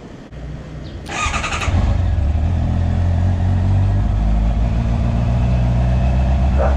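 A Honda CB650R motorcycle engine starts up with a brief cranking whir, then settles into a loud, steady, deep idle at high RPM, heard up close without anyone speaking.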